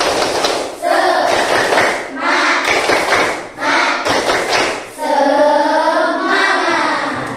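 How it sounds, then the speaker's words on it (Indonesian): Indonesian schoolchildren in a classroom clap out a rhythmic spirit-clap pattern together, loud and close, in sharp bursts separated by brief pauses, with voices chanting along between the claps. "Tepuk semangat."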